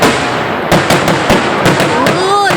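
Fireworks explode over Lake Burton in a rapid series of sharp bangs and crackles, loud and close, with whistling rising tones near the end and voices in the background.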